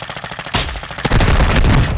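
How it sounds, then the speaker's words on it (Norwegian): Video game gunfire cracks in a rapid burst of close, loud shots, then a heavier volley of sustained fire follows without pause. "Si fra når du skyter, så skyter vi sammen"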